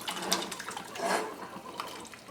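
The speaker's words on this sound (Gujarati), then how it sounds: "આ વાલને આપણે પાણી સાથે તેમાં નાખી દેવાના છે" Boiled val beans and their cooking water are poured into a simmering gravy whose oil has separated, for a Gujarati wedding-style val shaak. The pour makes a close, steady splashing and gurgling with no voices.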